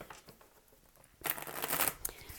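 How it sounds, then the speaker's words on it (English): A deck of tarot cards gets a brisk shuffle close by, a papery riffling burst of a little over half a second that follows a quiet stretch and ends in a few soft card taps. "I do shuffle the cards back in before I go ahead and move on to the next pile"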